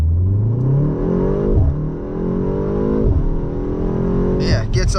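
A 2025 BMW M235 Gran Coupe accelerates hard at full throttle, its engine note climbing loud and close through several rising sweeps with gear-change dips, heard from inside the car.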